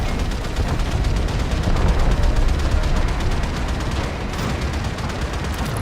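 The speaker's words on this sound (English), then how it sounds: "Gunnery crews, launch torpedoes." Torpedoes launching from a railjack ship in the game Warframe: a dense, continuous barrage of rapid booming shots and rumble, loud and sustained throughout, with no talking.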